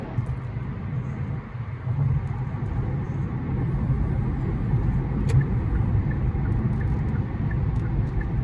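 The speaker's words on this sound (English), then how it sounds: "When you're entering this way, there's a bunch of traffic." Road traffic near construction at exit 52A coming into downtown Fort Worth, heard from a moving car: a steady low rumble of engines and tires, with occasional faint clicks and no talking.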